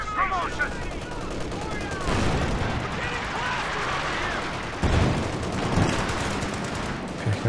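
An artillery barrage in a Company of Heroes 2 multiplayer match sounds as a dense stretch of booms, rattling gunfire and explosions, with a commentator talking over the battle noise.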